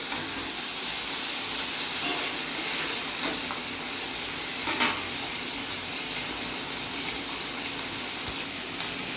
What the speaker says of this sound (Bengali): আমার আলুর সঙ্গে মশলাটা ভালো করে কষা হয়ে গেছে